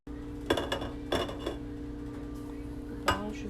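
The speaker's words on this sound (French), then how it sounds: "Avec ce côté du grattoir, je vais hacher l'ail." Garlic being chopped with the edge of a metal bench scraper for a spinach and pistachio sauté, giving a few sharp clinking knocks on the board, close and clear, with quiet gaps between them.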